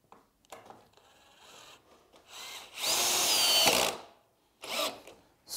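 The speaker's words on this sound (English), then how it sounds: "Screw it in." A power drill drives a screw into a wooden frame for a galvanised planter box, with short whirring starts, then a loud sustained burst of about a second, then another brief burst, close and alone with light handling sounds between.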